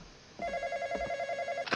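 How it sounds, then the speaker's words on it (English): A telephone rings in the horror video game The Intruder, a loud electronic trill that starts abruptly and runs on steadily with a pulsing buzz, heard alone with no talk over it. "All right, I'll answer. I'll do the phone."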